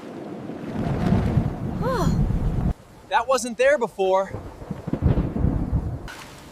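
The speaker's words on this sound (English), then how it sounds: "I think a storm is coming." Low thunder from an approaching storm rumbles under background noise. People then talk in short, close phrases while the rumble fades behind them.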